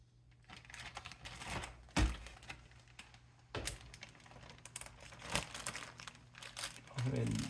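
A plastic zip-top bag holding deer jerky pieces being pressed and zipped closed, giving faint crinkling and snapping plastic sounds in short bursts, with a voice speaking over parts of it.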